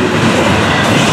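A Florida East Coast freight train hauling double-stack container cars and piggyback trailers rolls past at close range, producing a loud, continuous rumble and rattle of wheels with no voices.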